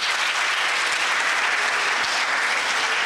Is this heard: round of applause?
yes